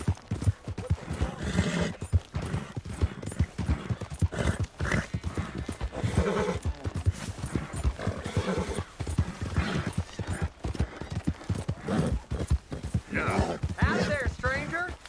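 Rhythmic clip-clop of horse hooves with a horse whinnying, in the game Red Dead Redemption 2, with music and voices talking over it.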